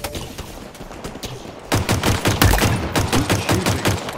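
Pistol gunfire in the Halo Infinite video game: faint distant shots at first, then a rapid run of about a dozen sharp, loud, close pistol cracks in quick rhythm, with no talking.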